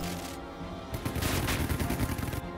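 Heavy World War 2 gunfire during the Omaha Beach landing in the Headquarters World War 2 video game, with rifles and machine guns firing in dense, overlapping bursts that swell loud and rapid in the middle.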